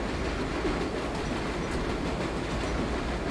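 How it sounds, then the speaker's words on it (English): An express subway train from the World of Subways simulator runs steadily, a dense continuous rumble of wheels and rails with a faint clatter, loud and unbroken throughout. "So we're an express train."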